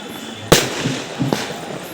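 Firecrackers go off during a village goddess cart festival procession, with one sharp, loud bang followed by a second smaller crack about a second later over faint background voices.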